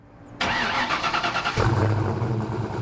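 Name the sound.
Ford Mustang engine starting and idling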